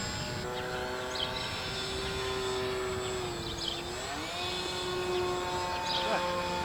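A radio-controlled model airplane buzzes steadily through a takeoff, its whining motor tone sliding in pitch as it climbs, with voices talking over it throughout.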